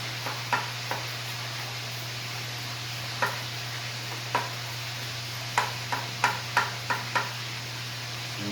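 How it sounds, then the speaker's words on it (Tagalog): Onion being finely chopped for talbos ng kamote with porkchop, sharp knife knocks on a board coming in sparse irregular taps, then a quicker run, over a steady low hum. "Medyo pipinuhin lang natin yung sibuyas."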